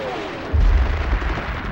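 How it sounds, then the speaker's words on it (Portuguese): WWII artillery barrage rumbling as a heavy, sustained low roar of distant guns, swelling into a dense boom partway through and rolling on continuously. "Montgomery lança sua ofensiva com uma barragem de artilharia preliminar"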